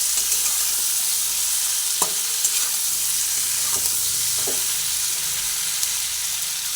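Winter vegetables with flat beans and cauliflower sizzle in hot oil in a pan, a steady close frying hiss throughout with a few faint scrapes of stirring.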